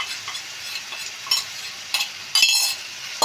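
Prawns tossed into a pan of cooked-down tomato curry sizzle steadily while a spoon stirs and scrapes, with a few sharp metal clinks standing out over the frying hiss.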